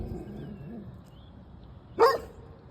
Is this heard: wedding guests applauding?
no